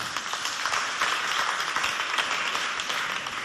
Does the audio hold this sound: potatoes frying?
no